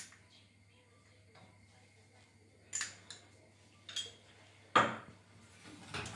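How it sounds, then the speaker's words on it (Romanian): Dishes and cutlery clink in a kitchen as a teaspoon of starch is added to a milk custard, a few sharp metallic taps and knocks scattered over a quiet background hum. "Și vom pune și o linguriță de amidon."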